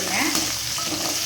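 Onions and curry leaves sauté in a pan for a mutton curry, a close, continuous sizzle with light stirring, no voices.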